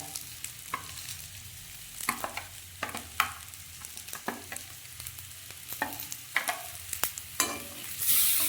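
Chillies fry with ginger garlic paste in a pan, a steady close sizzle broken by repeated scraping stirs, with no talking.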